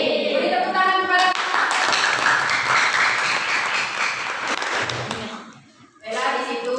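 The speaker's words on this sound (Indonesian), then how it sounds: "Beri tepuk tangan kepada." A classroom audience claps for a student, a dense burst of many hands lasting several seconds before fading out, with talking heard before and after.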